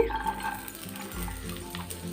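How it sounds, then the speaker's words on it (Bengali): Chopped onion dropped into hot oil in a kadai while making Szechuan chicken momos, giving a soft, steady sizzle that stays fairly quiet and low in the mix, with no talking. "কড়াইয়ে তেল দিলাম পেঁয়াজটা দিয়ে দিচ্ছি"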